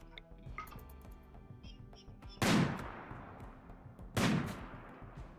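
Gunfire in the video game RimWorld: two loud, sharp shots a couple of seconds apart, each with a trailing boom, over faint small clicks and game sounds.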